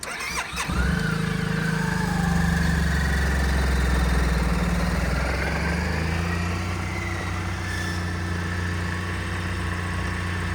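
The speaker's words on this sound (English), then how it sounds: "So engine is nice and quiet." A 2006 Suzuki Burgman 650 scooter engine with stock exhaust idles steadily after a brief start-up clatter, a low even putter running close by with no talk.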